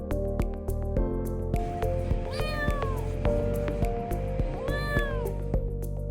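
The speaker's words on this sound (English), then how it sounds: "famous for their many resident cats, a charming part of everyday street life" Street cats in a Montenegrin seaside town meow several times, drawn-out plaintive calls at moderate distance over a steady background hum and clatter of everyday town life.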